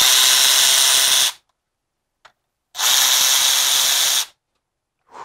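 A power tool spins out engine bolts on an E90 BMW during VANOS cam bearing ledge repair, two loud whirring bursts of over a second each with a brief clink between and a short start at the end.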